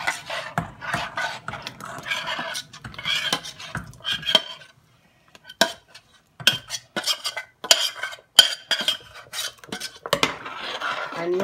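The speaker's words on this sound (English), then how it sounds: "And you have to make sure you stir it up." A spoon scrapes and clinks against a pot while stirring cornmeal into boiling water, in irregular bursts of close scraping strokes separated by a brief pause.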